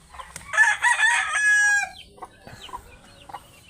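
Chickens in a small backyard coop with chicks, a rooster crowing loudly and close, then scattered hen clucks and quieter bird calls.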